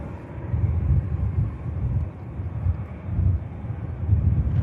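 Steady low rumble of jet aircraft engines at Manchester Airport, with a distant, continuous roar that swells and fades slightly, heard without speech.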